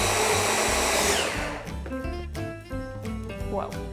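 A blender purées beetroot gazpacho with salt, pepper and balsamic vinegar, a steady loud whirring motor for the first second and a half that then gives way to clattering, uneven sounds.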